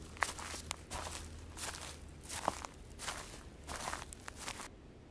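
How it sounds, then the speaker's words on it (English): Outdoors, several faint footsteps crunch and scuff at a steady walking pace, each step a short burst over quiet background noise. "You hear that? You're hearing footsteps."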